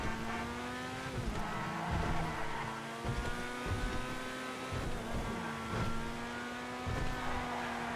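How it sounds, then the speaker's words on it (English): A Pegassi Vacca-style sports car from GTA 5's Finance & Felony update revs its engine in-game, a loud continuous roar with rising and falling pitch, repeated throttle blips and harmonic whine, no talk over it. "on this car, here's what the engine sounds like"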